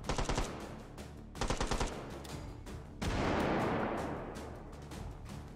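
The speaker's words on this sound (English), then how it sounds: "let the grenade spam begin" Virtual-reality shooter H3VR: two quick bursts of rapid gunfire give way to a single loud, rumbling grenade blast that washes out and slowly fades over several seconds.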